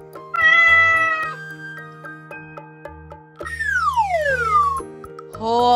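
A cat gives two drawn-out meows, the second one sliding downward, over a bright, tinkling children's learning tune.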